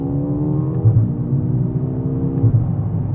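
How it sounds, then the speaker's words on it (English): A Mercedes-AMG A35 sedan with its exhaust opened revs up, the engine note climbing and dropping in two loud, close pulls. "let's have some more fun and open up this exhaust"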